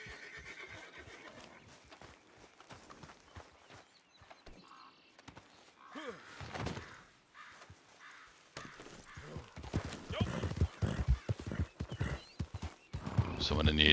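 Hooves clop closer and grow louder, with a horse whinnying partway through, amid Red Dead Redemption 2 Online game ambience and scattered crow caws.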